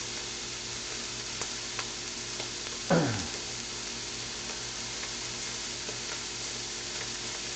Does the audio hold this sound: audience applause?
no